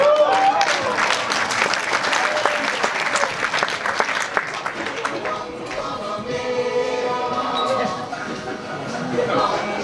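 Audience applause at a public meeting, a dense burst of clapping that is loud at first and gradually thins and fades toward the end.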